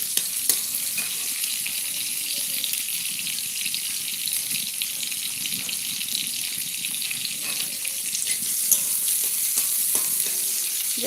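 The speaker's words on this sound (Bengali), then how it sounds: "এখানে পেঁয়াজটাকে আমি ভেজে নিচ্ছি" Steady, loud sizzling of onions frying in a pan, a continuous hiss with faint stirring scrapes underneath.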